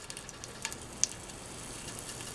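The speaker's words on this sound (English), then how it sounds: "I can hear the sizzle." A carrot frying in canola oil heated on medium-high in a Dutch oven, giving a faint, steady close sizzle with light crackles and one small pop, no voices.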